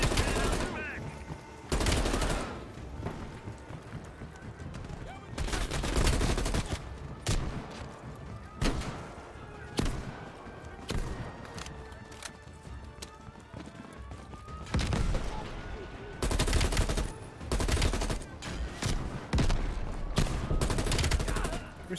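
Video game gunfire: repeated loud bursts of close shots and rapid automatic fire coming in clusters over a steady background rumble, with quieter stretches between volleys.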